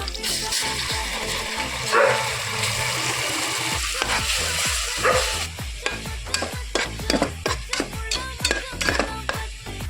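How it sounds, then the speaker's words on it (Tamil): Onion, green chilli and ginger garlic paste sautéing in a pan for chicken biryani, with loud sizzling and repeated scraping stirs of a spoon that grow sharper and more rhythmic in the second half. "இஞ்சி பூண்டு பேஸ்ட் போட்டு நல்லா வதங்கி வச்சுக்கணும்."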